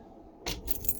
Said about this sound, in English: The keys out of my pocket always helps.